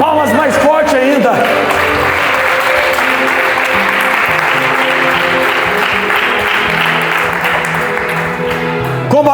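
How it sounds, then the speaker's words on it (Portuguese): A church congregation bursts into loud, sustained applause and shouting in praise, a dense wall of clapping and cheering that holds steady throughout, with a voice briefly audible at the start. "dá um grito de glória bem forte, uma salva de palmas mais forte ainda"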